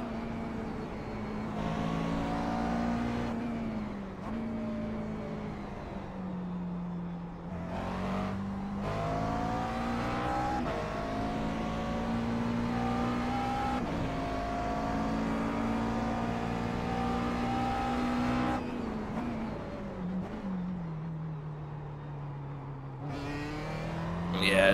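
A McLaren MP4 12C GT3 race car in iRacing at Barber circuit, engine droning steadily close-up with rising and falling pitch through gear changes and throttle lifts, continuous for about twenty-five seconds.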